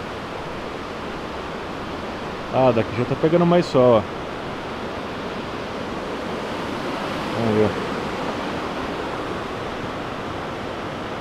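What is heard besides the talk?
waterfall at Cascada Los Alerces, Bariloche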